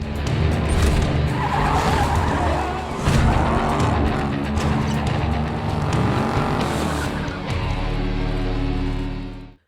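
A car in a film chase speeds onto a racing circuit, tires squealing and skidding loudly over a roaring engine for nearly ten seconds, ending abruptly.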